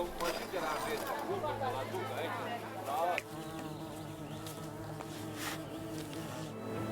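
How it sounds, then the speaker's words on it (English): Bees in the village-building game Laysara give a continuous buzzing, insect-like drone over a steady game soundtrack, with someone talking over the top of it. "bees don't want to go on the higher ground because they'll become crappier"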